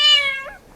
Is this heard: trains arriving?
no